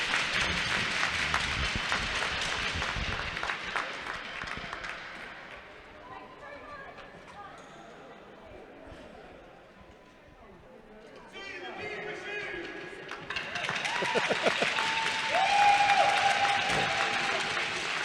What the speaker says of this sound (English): both teams applauding Zoe Davis, player of the game for the Sheffield Stings